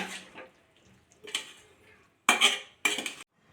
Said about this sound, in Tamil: நல்லா மிக்ஸ் ஆகிற மாதிரி கிண்டி விடுங்க